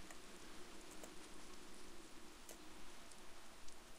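Soft rainfall in the online golf game Shot Online, a faint, continuous patter with scattered sharper drops ticking at irregular moments, quiet and with no voices.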